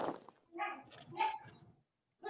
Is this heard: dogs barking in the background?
yes